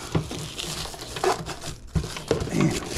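Packaging of a LERAT portable space heater being torn and ripped open by hand, close crinkling and tearing in several uneven bursts with short pauses between.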